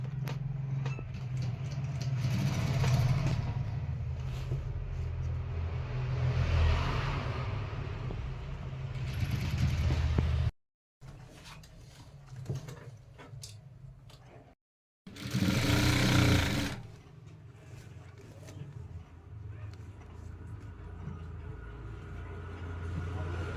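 A sewing machine stitches along the border of a lehenga with a low, continuous motor whir that runs in long stretches and stops briefly twice before starting again.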